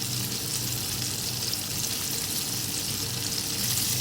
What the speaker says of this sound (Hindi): एक साइड से ये फ्राई हो जाएंगे, अच्छा सा कलर आ जाएगा तो फिर मैं इसको पलट दूंगी